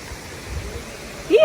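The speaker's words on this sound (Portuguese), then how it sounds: "Estamos aqui hoje numa cachoeira" A waterfall in Japan roars as a steady wash of rushing water, with a short burst of voice rising over it right at the end.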